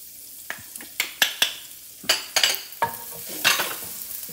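Minced garlic hits hot oil for a tofu noodle stir fry, bringing sharp crackling bursts and a run of quick spatula clacks against the pan, close by and with no talk.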